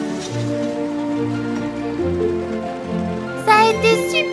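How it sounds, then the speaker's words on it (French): Magic rain falls in a French children's cartoon, a soft steady patter layered under sustained musical tones, with a brighter chiming burst near the end. "Ne t'inquiète pas, Missy Fu, c'est une pluie magique."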